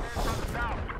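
Gunfire in Battlefield 4 during a firefight, a dense burst of booming shots with a rumbling tail, loud and close, with game voices and noise mixed in.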